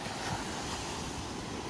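Waves at a beach breaking and washing ashore, heard as a steady broad roar with wind buffeting the microphone, fairly faint and with no one talking.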